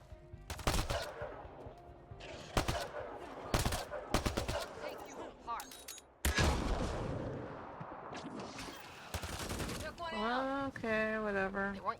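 Rapid bursts of gunfire from the Mass Effect Andromeda video game fight against the Kett, loud sharp volleys in clusters with game sound and a voice talking toward the end.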